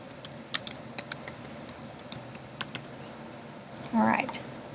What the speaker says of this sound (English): So you're going to put by, and then you'll type your name.